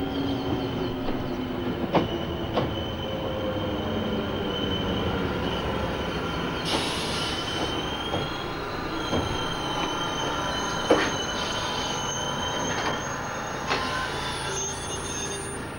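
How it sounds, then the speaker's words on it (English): Spanish train running along the rails, a continuous loud rumble with high wheel squeals and sharp clanks recurring throughout, no voices. "Spanish train."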